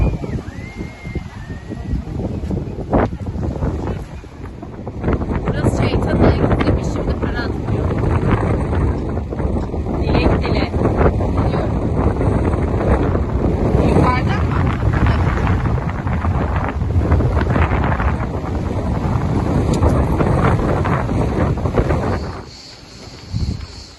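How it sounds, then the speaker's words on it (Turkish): Strong wind in Ayvalık, Turkey, roars and buffets the microphone in a constant low rumble, swelling and gusting steadily for most of the stretch before easing near the end. "çok fena rüzgar var"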